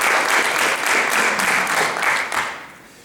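Dense applause from an audience at an Arizona Negro League Baseball centennial celebration, steady and full for over two seconds before tapering off near the end.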